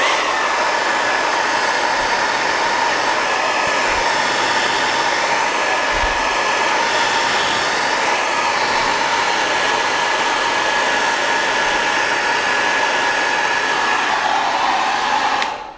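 A hair dryer runs steadily and loudly for the whole stretch, drying a watercolor painting of a pond scene with a constant close whirring hum and airy rush.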